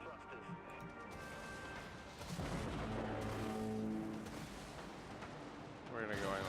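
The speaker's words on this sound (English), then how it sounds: "Launch our missiles, which are vulture missiles." Vulture missiles launch from opened pods on a ship in the space combat game Dreadnought, rumbling booms and blasts that swell midway and again near the end, with a voice talking over them.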